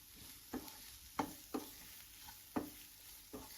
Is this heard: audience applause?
no